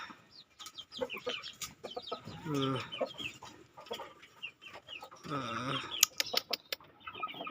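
Backyard chickens and roosters cluck and squawk in short irregular bursts, a couple of louder drawn-out calls standing out, fairly close with quiet gaps between.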